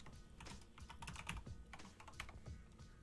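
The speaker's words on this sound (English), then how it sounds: "it's then going to have you type in your password" Fingers type a password on a computer keyboard, a quick, soft run of clicking keystrokes close by, evenly paced and uninterrupted by talk.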